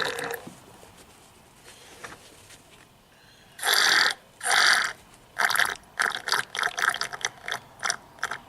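A syringe sucks brake fluid out of a car's brake reservoir during a brake fluid flush, making loud, wet slurping gurgles: two long pulls followed by a rapid run of shorter sputtering bursts, close to the microphone.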